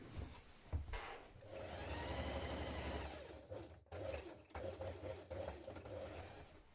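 Sewing machine stitching up the sides of a folded coat collar, with a few short close bursts of the motor broken by brief pauses.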